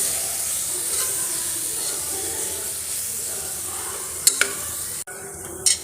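Constant hissing sizzle of chili powder and coriander powder frying in a pan, with a couple of quick scraping stirs near the end and a brief clatter.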